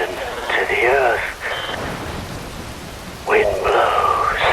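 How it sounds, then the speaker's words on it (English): Rain and wind sweep through a cutscene in the action game Metal Gear Rising: Revengeance, a loud continuous hiss under two stretches of eerie, warbling tones. "Wind blows, rain falls."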